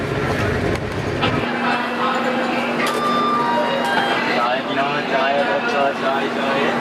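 A steady rumbling roar of a moving train, continuous and fairly loud, with rattling and a faint tonal whine running throughout.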